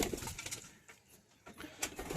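High-flying pigeons coo in a series of low, soft, throaty calls, fairly close and with no talk, rising and falling with a quieter gap partway through.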